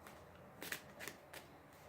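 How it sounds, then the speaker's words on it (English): A vintage tarot deck gets a quick shuffle, three short soft riffling bursts of cards, faint and close in a quiet room. "I'm just going to give it a quick shuffle"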